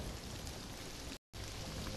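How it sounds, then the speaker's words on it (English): Steady rain pours down in a nighttime scene from the animated film Shrek 2, a dense, even hiss of falling drops broken by one brief silent cut. "It's just the rain, Donkey."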